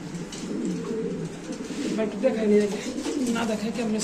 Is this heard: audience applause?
no